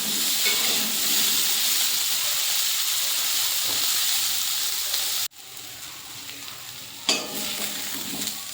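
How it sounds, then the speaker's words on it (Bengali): Salted potatoes fry in a pan over a low flame, a constant hissing sizzle that drops abruptly partway through, then resumes more quietly with a stir, no talking. "অল্প নুন দিয়ে দিচ্ছি, লো ফ্লেমে হালকা করে ভাজা করে নেব।"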